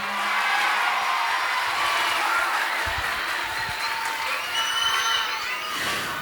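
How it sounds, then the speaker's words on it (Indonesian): A crowd applauds warmly at a santri graduation gathering, dense and sustained clapping that holds steady and fills the room from start to finish. "berikan semangat dengan tepuk tangan yang meriah"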